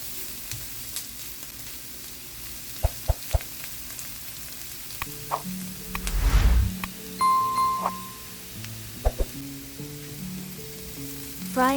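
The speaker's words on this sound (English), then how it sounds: "Fry until soft." Onion, carrot and garlic frying in a pan, a steady sizzle with occasional stirring scrapes and a few utensil clinks, close and fairly loud, with no talking.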